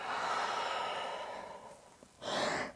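A long, breathy exhale fades out slowly during yoga practice, close and alone, and a short, sharper breath follows near the end.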